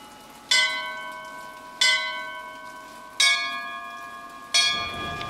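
Bell ringing in the video game BioShock Infinite, four loud clear strikes spaced about a second and a half apart, each leaving a long ringing tone that fades.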